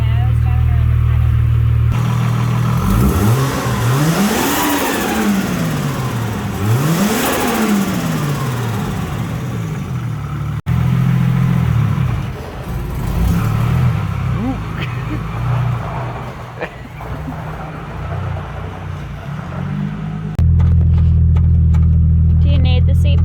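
A manual drift car is driven around a paddock, its mid-pitched engine revving up and down in repeated rising and falling surges, loud and close, with voices talking over parts of it.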